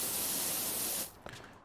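Pressure washer jet in PowerWash Simulator while restoring a rusty fire truck: a steady, loud broadband hiss of spray for about a second, then cutting off to a quieter tail with faint clicks.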